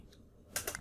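Commands typed on a computer keyboard while configuring a Cisco Packet Tracer network switch: after a quiet stretch, a short cluster of three or four quick, close keystrokes clicks near the end.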